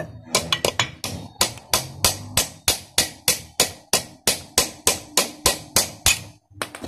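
A homemade tool is struck to drive out a bearing, giving a long run of sharp, evenly spaced metallic hammer blows at a steady rhythm, loud and close, with a brief pause near the end.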